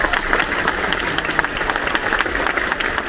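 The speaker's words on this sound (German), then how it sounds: "bringen Sie mit ihm mit einem großen Applaus auf die Bühne unseren Captain Tom" Theatre audience aboard a cruise ship applauds the captain as he comes on stage, a dense, steady roar of many hands clapping close and loud throughout.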